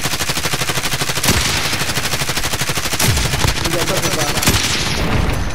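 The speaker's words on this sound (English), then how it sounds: "They're shooting at somebody." Dense, sustained automatic gunfire in Call of Duty: Modern Warfare, loud and continuous throughout with rapid overlapping bursts and a couple of heavier impacts, voices faintly underneath.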